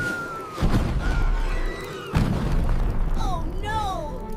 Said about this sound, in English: a massive explosion sends the trio flying.